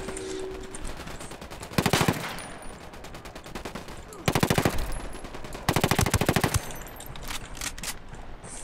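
Rapid automatic gunfire in the video game Ghost Recon, with three loud sustained bursts of machine-gun fire over a background of lighter scattered shots, close and dense, with a voice briefly heard.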